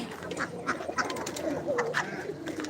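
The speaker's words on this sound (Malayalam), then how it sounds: "താറാവ് താറാവ്" Native domestic ducks on a farm giving a series of quacking calls at moderate distance, spread evenly over a few seconds.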